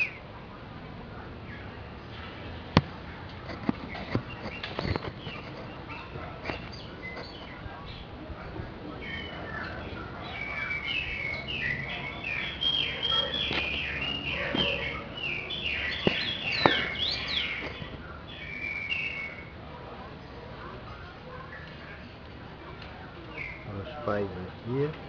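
A chopi blackbird's whistled song phrases rise mid-clip amid scattered clicks and handling knocks, fairly close, with talk heard around them.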